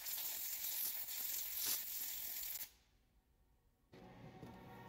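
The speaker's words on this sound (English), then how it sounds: "And another blow with the air tool." A compressed air tool blasts out the side case of a Husqvarna 372XP chainsaw during maintenance. A steady, loud hiss runs for several seconds, drops to near quiet, then a fainter hiss resumes.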